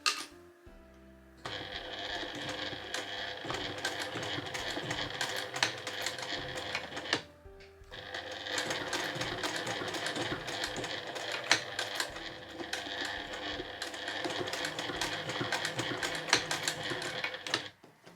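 A home sewing machine stitches a fabric shoulder strap in two steady, close mechanical runs with a short pause between them. Its rapid clatter holds an even rhythm.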